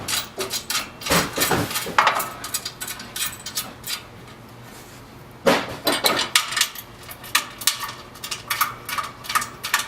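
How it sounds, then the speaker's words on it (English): Screws being driven into the base of an Epson SureColor printer stand, heard as close clattery metallic clicks and knocks in two bursts, with a quieter gap between them. "And then you'll take these 2 screws and screw them in right here."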